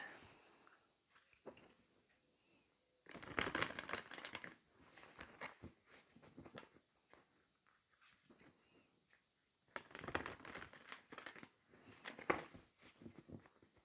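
Oracle cards are handled and shuffled close up in a quiet room, with two bursts of quick riffling and flapping set apart by softer card handling and rustling.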